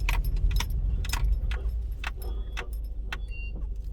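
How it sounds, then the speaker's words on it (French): The worn rear brakes of a petrol Volkswagen Golf 3 with a broken rear brake lining squeal while the car rolls and brakes: sharp, high metallic squeaks repeat irregularly over a low road and engine rumble. "là on entend le cuinement sur les freins arrière"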